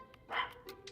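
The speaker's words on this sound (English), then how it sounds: "Excuse my dog in the background," A single short, faint bark from a dog, somewhat distant, followed by quieter yips.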